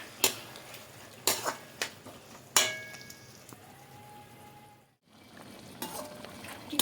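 Chili chicken gravy bubbling and sizzling in a pan after water is added, with a steady frying hiss, a few sharp clinks of a spoon or spatula against the pan, and a brief pause near the end.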